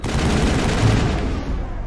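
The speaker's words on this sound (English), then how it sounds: "That turret can punch some nasty holes." Turret gunfire in the video game Mass Effect, heard as a loud, dense, continuous rattle of rapid shots that fills the whole short stretch without pause.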